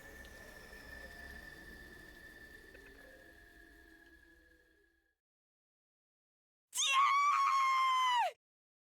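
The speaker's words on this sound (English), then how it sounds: "The sudden cry rang through the night." A scream rings out from inside a school at night in the video game Hundred Line Last Defense Academy, one loud, sustained shriek after rain and ambience fade into silence.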